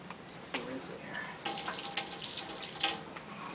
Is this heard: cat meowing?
no